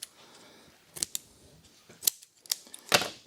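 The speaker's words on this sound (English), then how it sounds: "We'll have to trim a little, take our scissors," Scissors snip Alcantara fabric while trimming a BMW door panel or pillar cover, giving several sharp, separate cuts spaced irregularly over a few seconds at close range, with no one talking.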